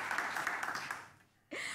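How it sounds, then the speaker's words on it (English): Hand clapping rattles along steadily, then thins out and fades, and after a brief pause a voice starts talking. "my clap kind of failed there at the end"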